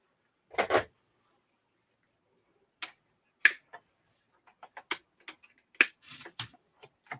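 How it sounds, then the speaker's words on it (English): Sharp, isolated snips and clicks as zip ties are cut on an Arrma Mojave RC truck, a handful of crisp close-up cuts spaced irregularly in an otherwise quiet room. "I am going to snip my zip ties"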